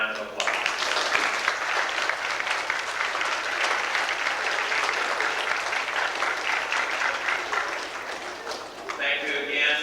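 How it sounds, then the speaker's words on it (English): Sustained applause from a school assembly audience at an East Orient grade school, dense and steady clapping that fills nearly ten seconds before briefly thinning at the end, with some voices mixed in. "let's give them a round of applause"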